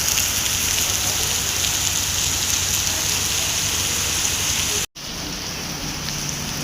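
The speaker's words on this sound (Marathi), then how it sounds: "सकाळपासून 4 वाजल्यापासून पाऊस पडतोय," Steady heavy rainfall hisses loudly and evenly, with one short break in the sound just before the end.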